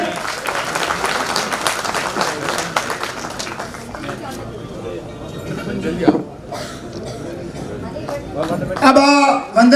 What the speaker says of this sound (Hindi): सभी तालियों से